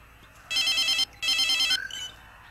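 A telephone bell rings in two loud, bright bursts of rapid trilling, each lasting about half a second, separated by a short pause, with no talking over it.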